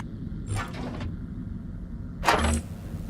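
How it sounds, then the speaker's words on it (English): Door hinges swinging open in the Starbase space game, two short mechanical sliding whooshes about two seconds apart, moderately loud over a low steady hum. "the hinges will open and the door open state value is 1."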